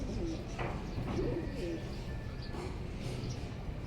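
A male black Lakkha pigeon coos in low, soft, repeated calls over a steady background hiss, close to the listener.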